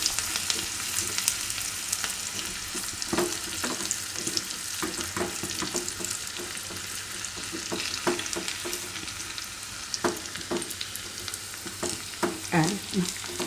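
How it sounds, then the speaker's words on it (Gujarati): Crushed garlic frying in oil in a pan for sai bhaji, a steady close sizzle with scattered crackles and light stirring scrapes throughout. "આમાં આપણે લસણ નાખી દેવું, જે આપણે વાટ્યું હતું એ. લસણને થોડુંક લાલ થવા દેવું."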